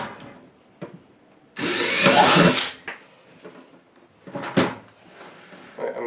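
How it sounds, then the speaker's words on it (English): A power drill bores two holes through a plastic 5-gallon bucket being made into a hanging planter, one loud sustained burst of drilling with a shorter one later, amid handling clatter. "I'm going to flip it over, drill 2 holes"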